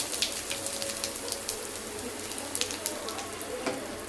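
Gentle, crackling sizzle of asafoetida powder frying in 2-3 spoons of hot sesame oil for tomato thokku, steady and soft with scattered pops.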